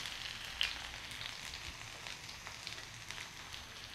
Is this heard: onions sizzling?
yes